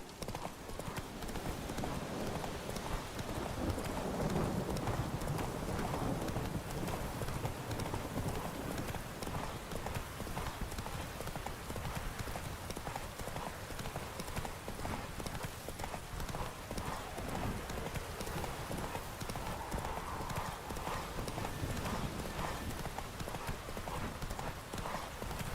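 Horse galloping in The Witcher 3, a steady rapid clip-clop of hooves running continuously, fairly faint under a busy game soundscape, with occasional talk mixed in.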